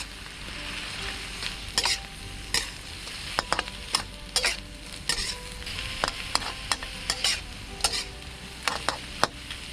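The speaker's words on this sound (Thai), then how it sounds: "ผัด ไป เรื่อย ๆ ให้เข้ากันนะครับ" Shrimp stir-fried with garlic and chili in a hot pan: a constant sizzle broken by sharp scrapes and clacks of the spatula against the metal at an uneven rhythm, close and fairly quiet, with no talking.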